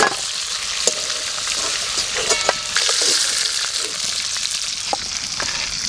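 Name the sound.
meat frying in a pan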